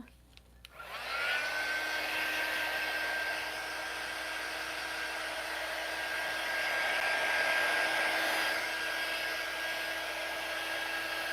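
Hair dryer blowing on paint for crafting, switched on with a click and then running as a steady, close, high-pitched whirring hum with a faint whine, unchanged for over ten seconds.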